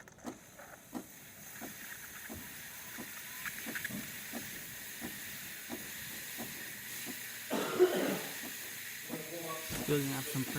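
A serviced DeLonghi Magnifica espresso machine's steam wand hisses steadily as pressure builds, a quiet airy rush with scattered clicks and gurgles, growing rougher and louder near the end.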